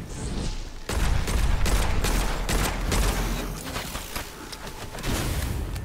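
An enemy assassin shooting in the video game Witchfire, a dense run of loud overlapping shots and impacts that keeps going for several seconds, with brief gaps between bursts.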